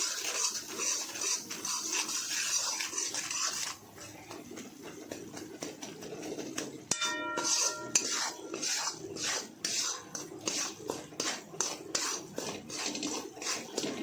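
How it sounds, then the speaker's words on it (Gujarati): A utensil stirs powdered sugar and black salt in a pan on the stove, producing repeated light scraping and clinking strokes in a quick, irregular rhythm, close and fairly quiet over soft background hiss. "હવે આ રીતે હલાવી કાઢીશું, બધું મિક્સ કરી દઈશું"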